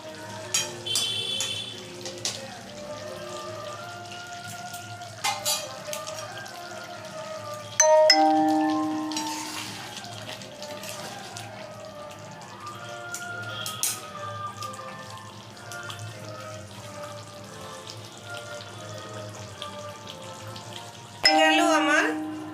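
A spoonful of butter sizzling in a pan with green chicken, a soft steady fry under clinks of a utensil and a few sharper bursts of sizzle, fairly quiet overall.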